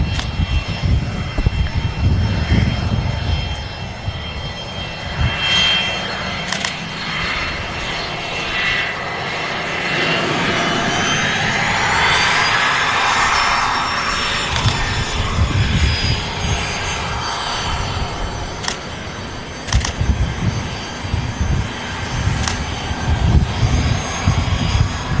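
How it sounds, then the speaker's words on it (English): Qatar Airways Boeing 777-300ER touching down at Manchester Airport, a steady jet roar that swells and slowly fades as the airliner rolls out, with faint background noise throughout. "Touching down here at Manchester Airport."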